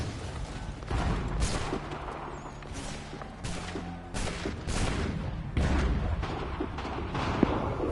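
Booming gunfire in an Assassin's Creed III fight sequence: several heavy, spaced blasts with rumbling tails ring out over game ambience, a sharp crack near the end.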